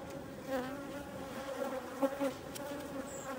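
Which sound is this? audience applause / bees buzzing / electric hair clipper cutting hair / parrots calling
bees buzzing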